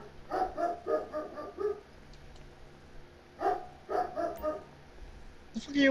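A dog in the video game GTA 5 barks in two bursts of several loud yaps each, separated by a quieter gap over a low steady hum.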